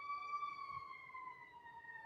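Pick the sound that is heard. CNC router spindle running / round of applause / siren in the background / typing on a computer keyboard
siren in the background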